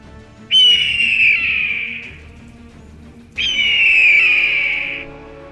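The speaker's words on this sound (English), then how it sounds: "You hear air squawking and cries outside." Two loud, shrill descending squawk cries in a sci-fi tabletop adventure scene outside a crashed ship's hatch, each a sustained screech tailing off, the second following after a short pause.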